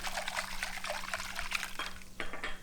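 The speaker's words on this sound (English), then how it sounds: "And 1/4 of a cup of vinegar." Vinegar, apple cider for this recipe, pours into a sweet and sour sauce mixture, a steady close trickle of liquid that briefly breaks off and then resumes, with no voices.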